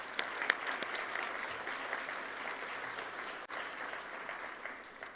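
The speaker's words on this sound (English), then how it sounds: "So if we could just give them a round of applause." A conference audience in a plenary hall gives sustained applause for the sponsors, an even wash of many hands clapping for several seconds.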